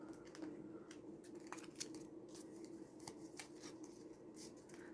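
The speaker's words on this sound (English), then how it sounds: "let's shuffle these to the bottom on this side as well." Pokemon trading cards shuffled and slid by hand, soft repeated flicks and rustles close by under a steady low background hum.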